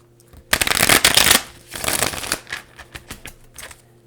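A Rider-Waite tarot deck is shuffled by hand in close, loud bursts of riffling and fluttering cards, first one long run and then shorter pats and riffles.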